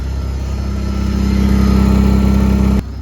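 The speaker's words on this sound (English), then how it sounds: "you're hearing a bunch of exhaust leak right there" A 2004 Mazda RX8 rotary engine idles loudly and close with a leaking exhaust seal near an aftermarket catalytic converter, giving a steady droning hum with a fast rapid pulsing, then dropping abruptly in level near the end.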